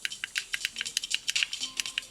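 A quick run of small plastic clicks from faulty volume buttons on JBL Tune 500 BT headphones, about a dozen in two seconds, close and fairly quiet, with no voices.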